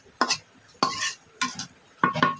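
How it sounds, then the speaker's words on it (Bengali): Spiny gourd (kakrol) stirred in a simmering pan, four distinct metallic scrapes and clinks of a spatula against the pan, close and clear, with quiet pauses between strokes. "একটু নাড়া দিয়ে নিলাম"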